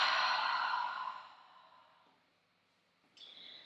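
A long, soft exhale during a yoga stretch on shoulders and backbends, fading out gradually over a couple of seconds, with a faint brief sound near the end.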